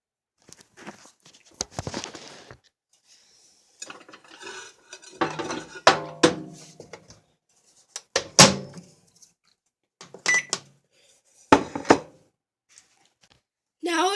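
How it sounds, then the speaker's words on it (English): Pizza rolls come out of a microwave oven in a home kitchen, with separate clatters and clinks of a dish and handling knocks, the door opening, and short pauses between the bursts. "I'm going to go ahead and get the pizza rolls out of the microwave."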